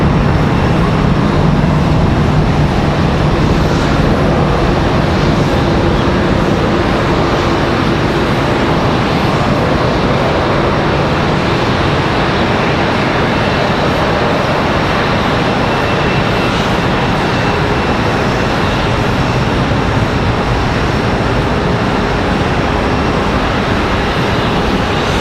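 A Spirit Airlines Airbus A320 in birthday cake livery departs Charlotte Douglas for Detroit, its loud, steady jet engine roar filling the whole stretch as a broad, unbroken rumble with no voices.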